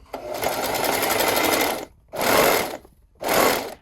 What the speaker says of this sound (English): we are just gonna sew about 1/4 inch of away from the edge all the way around the scrunchie